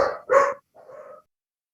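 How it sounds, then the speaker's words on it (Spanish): Pet dogs bark excitedly at home, stirred up by a dogfight out on the street: two sharp, loud barks in quick succession, then a shorter, softer yelp, close by. "en la calle se estaban peleando unos perritos y los míos empezaron a ser histéricos"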